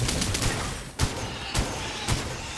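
Submachine gun fire in the sci-fi isometric shooter game Cygnus Enterprises crackles in a dense, continuous rattle, with a few heavier bursts standing out at regular intervals.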